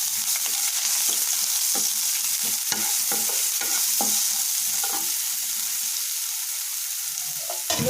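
Ridge gourd peel with a pinch of salt frying in a pan: a strong, continuous sizzling hiss with irregular scraping and tapping of a spatula stirring, close and without talk.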